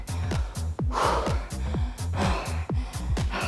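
Hard, rhythmic panting right after a set of jump squats in a HIIT workout: loud, close gasps and sharp exhales repeating steadily, with no talk over them.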